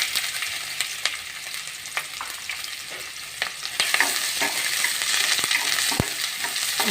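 Mushrooms fry in a pan for a masala curry. A continuous sizzle runs under sharp clinks of a utensil stirring against the pan, and the frying grows slightly louder partway through.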